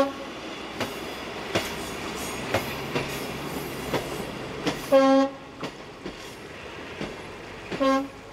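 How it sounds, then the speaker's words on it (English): A Class 811 diesel unit, number 10, on local train 5604 rolls down the grade at Lipnik in Slovakia, with rhythmic wheel clicks over rail joints, short horn blasts and loud squealing bursts near the end. "At Lipnik, Class 811 unit number 10 drops down the grade with local train number 5604"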